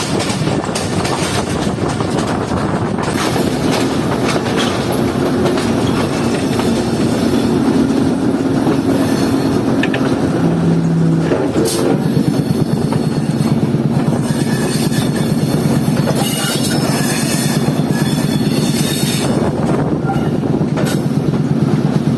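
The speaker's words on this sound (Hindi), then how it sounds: "हमारी 9 अप अल्लामा Iqbal express Sialkot junction railway station के मेन प्लेटफॉर्म पर ही लग रही है" The 9 Up Allama Iqbal Express train rumbles steadily at the main platform of Sialkot Junction railway station, a loud continuous roar of wheels and carriages with squeals and clanks, and no talk.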